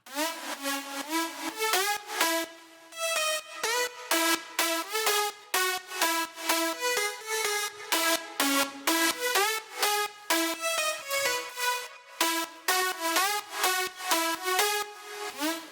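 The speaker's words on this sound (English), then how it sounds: "the gain of the reverb is actually automated along with the auto pen with the left and right" A bright synth lead plays a quick rhythmic melody, its automated reverb tail with left-right auto-pan pulsing on and off in a choppy, shuttering pattern from note to note.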